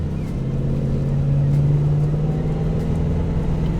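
A restored 1976 Pontiac Trans Am accelerates with a loud, deep, steady engine drone and a rising throaty hum heard from inside the car.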